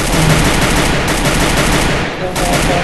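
Rapid automatic gunfire in the mobile shooter game Free Fire Max, loud, dense and continuous bursts that fill the whole moment.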